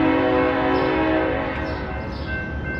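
A passing train's horn sounds as one long, steady, loud blast over a rumbling rail roar, holding at about the same level and fading only slightly.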